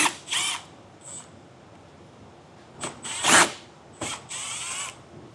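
A powered driver whirs in several short bursts, loud and close, as Phillips screws come out of plastic trim pieces during a trailer hitch receiver installation on a 2023 Kia Telluride. No one speaks.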